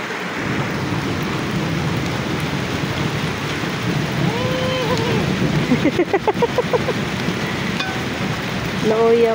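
Very heavy rain pours in a steady, loud hiss, with a few faint tonal calls and clicks poking through the downpour.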